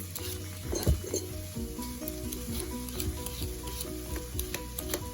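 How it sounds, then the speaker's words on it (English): Onions and peppers sizzle steadily in a pan for veggie chilli, a soft continuous frying hiss with occasional stirring scrapes and light clinks, no one talking. "Hear that onions and peppers sizzling away in the background as well."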